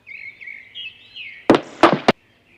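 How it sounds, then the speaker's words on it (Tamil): Three sharp knocks on a door in a Tamil animated children's story come in quick succession after a high whistling, birdlike tone, loud and close. "கதவு தட்டுன சத்தம் கேட்டதும் குருவிங்க,"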